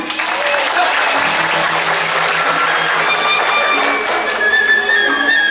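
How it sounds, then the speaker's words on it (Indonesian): Sustained applause from a crowd at a Balinese drama gong performance, dense and steady throughout, with some tonal background sounds mixed in. "Tepuk tangan sekali"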